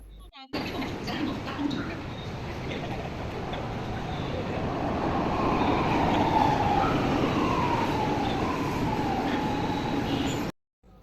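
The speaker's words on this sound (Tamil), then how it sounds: "கரெக்டான டைமிங்க்கு வந்தது ட்ரெயின்" A train rumbles steadily into a station, a continuous loud rolling roar with faint squealing tones building over several seconds before cutting off.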